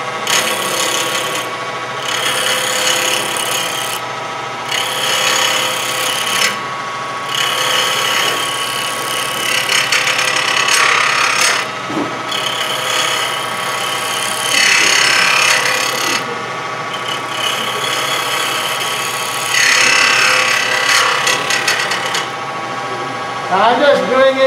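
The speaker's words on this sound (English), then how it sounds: "I'm just doing a pivoting cut on a fulcrum." A wood lathe spins a laminated bowl as a turning tool makes a pivoting cut on a fulcrum, a loud hissing shear in repeated bursts separated by brief pauses, with talk over it.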